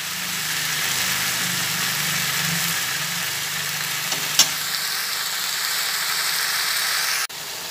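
Chicken sautéing in a pan over lowered heat gives a steady, moderate sizzle with occasional faint stirring, a brief clink near the end, and an abrupt cutoff.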